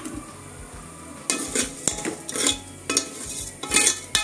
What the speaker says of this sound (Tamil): இப்போ இந்த நெய்யில் வந்து இந்த பருப்பு நல்லா வறுத்துக்கலாம்